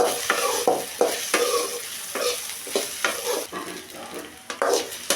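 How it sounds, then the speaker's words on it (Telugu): Okra frying in a pan for a roti chutney, a steady close sizzle with repeated scraping stirs every half second or so. "బాగా ఈ బెండకాయలు ఒక ఇరవై నిమిషాలు బాగా వేగాలండి"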